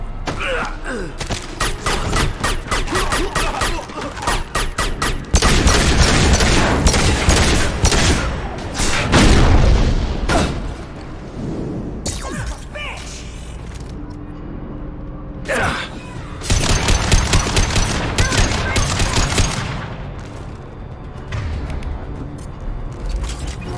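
Mass Effect Legendary Edition combat, with sustained rapid gunfire bursts and mechanical clatter running almost continuously, plus booms, under intermittent game voices.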